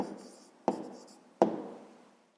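A number is written by hand with a pen on paper: faint scratching with two distinct taps of the pen tip, close and quiet, with no voice.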